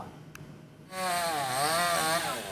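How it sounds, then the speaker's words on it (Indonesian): A chainsaw starts up and whines loudly as workers cut fallen banyan tree branches off crushed cars in Jakarta, its engine pitch wavering up and down as it bites into the wood after a short quiet moment. "Tugas menggunakan gergaji mesin untuk memotong dahan pohon yang menimpa kendaraan"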